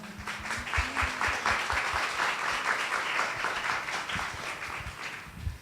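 A room of listeners gives a sustained round of applause after a fashion and sustainability talk, steady dense clapping at an even level throughout.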